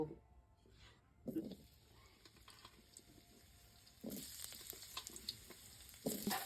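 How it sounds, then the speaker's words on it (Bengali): Potatoes fry in oil for a village chicken dish, giving a quiet, soft sizzle broken by louder bursts of stirring and spattering at intervals. "এখন তেল দিব আলু ভালো করে বেজে নিব"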